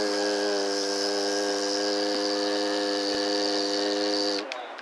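A steady, deep nasal hum from bhramari pranayama, the humming bee breath, held evenly for about four seconds at close range before it stops abruptly.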